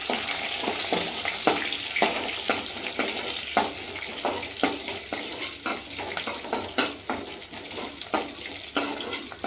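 Shallots and dried red chillies sautéed in a pan for a Tamil dal rice dish, a loud close crackling sizzle broken by regular scraping stir strokes about every half second.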